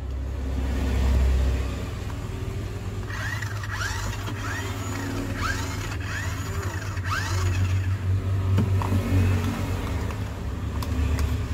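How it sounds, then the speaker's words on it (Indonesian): A 1:16 scale high-speed 2WD remote control car with a clear plastic body and rear-wheel drive runs steadily, its small electric motor whining and rising and falling in pitch over a low rumble, with no voices. "ini mobil remote control ini digerakkan dengan sistem 2WD yang berjalan atau berputar rodanya cuma belakang"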